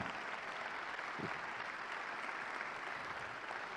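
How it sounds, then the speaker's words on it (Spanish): A congregation at a church service claps loudly and steadily, a dense, even wash of applause lasting a few seconds with faint voices underneath. "Un fuerte aplauso."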